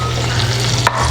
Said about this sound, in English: the butter is melted, so let's go ahead and just squish it around